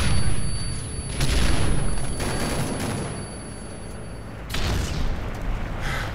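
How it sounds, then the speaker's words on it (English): Predator missile strikes in Modern Warfare 3 multiplayer, heavy booming blasts with rumbling bursts of explosions and gunfire rolling continuously, loud and dense, with a second surge of impacts near the end. "Friendly predator missile inbound."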